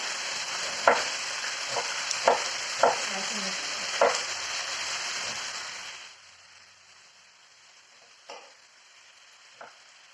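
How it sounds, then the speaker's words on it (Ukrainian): Meat searing in a hot pan gives a loud, steady sizzle with scattered stirring clicks, then drops to a much quieter hiss partway through, with a couple of faint knocks afterward. "М'ясо обсмажимо зі всіх сторін"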